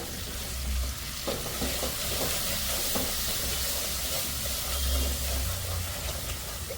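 A tempering of oil with green chillies, tomato, garlic and turmeric sizzles loudly in a pan for a broccoli dish, a dense continuous fry with stirring, close and without talk.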